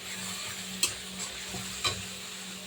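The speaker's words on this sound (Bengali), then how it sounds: "এবার মশলাটাকে কষাবো" Masala with chili paste fries in a pan for koi fish kalia, a soft continuous sizzle broken by two sharper scraping stirs of a spatula against the pan.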